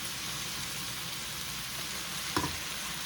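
Beef pieces for stroganoff frying in a pan, a steady close sizzle throughout with a brief clatter near the end.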